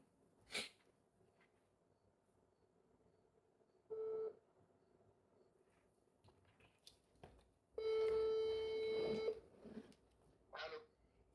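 A phone call placed during a broadcast: a few short ringback tones sound, separated by pauses, with one longer tone near the end before the call is answered.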